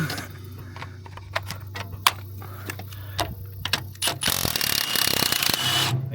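A bolt is loosened on a Nissan S-chassis car, heard as a run of close, sharp metallic ratchet clicks. A burst of louder scraping, rushing noise follows near the end.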